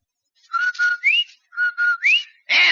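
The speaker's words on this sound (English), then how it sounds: "That whistle. That's the Rinso White whistle." A radio advert jingle of two steady whistled notes followed by a rising slide, played twice in quick succession, clear and close, then cut off by a brief burst of broadband noise.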